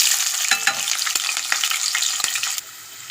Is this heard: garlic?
yes